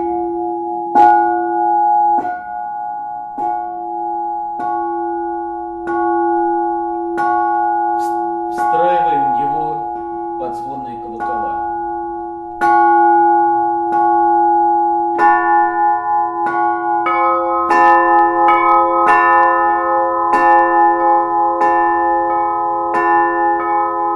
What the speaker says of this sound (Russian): ровный темп большого колокола на педали.